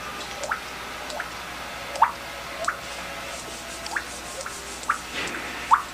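A person imitates a water drip with the voice, making a series of small, hollow plinks spaced about a second apart over a steady background hiss, with no other talk.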